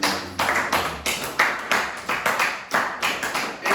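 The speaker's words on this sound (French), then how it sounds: "Acclamez pour le Seigneur." A church congregation claps together in a steady rhythmic beat, roughly three claps per second, loud and sustained with no voices over it.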